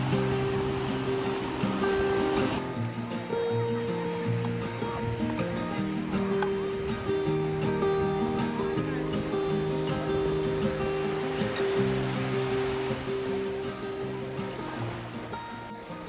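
Continuous wash of waves and moving water at a beach in Charleston, South Carolina, a steady close surf noise with faint tonal sounds layered underneath throughout.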